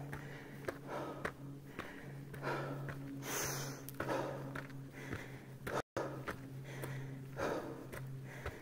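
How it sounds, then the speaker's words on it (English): Heavy, rhythmic breathing of a hiker climbing a mountain trail toward Fletcher Peak at about 10,000 feet. The breaths are close to the microphone, with outdoor wind rustle in the background. "Sorry about the heavy breathing."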